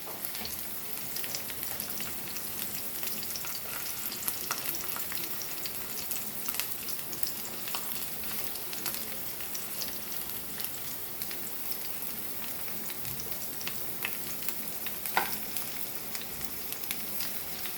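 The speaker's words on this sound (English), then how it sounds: "So you can see it's already getting fried." Stuffed snake gourd, a Goan stuffed vegetable with cheese and corn, fries in a pan with a steady, dense sizzle and crackle running evenly throughout, close and fairly quiet, no voices.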